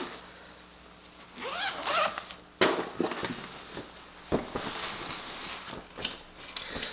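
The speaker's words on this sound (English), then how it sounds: "so let's go ahead and zip it up and we'll flip it over again" Zipper on a fabric mattress cover being pulled closed, a run of scratchy zipping bursts with sharp tugs and pauses, close and fairly quiet, with no talking.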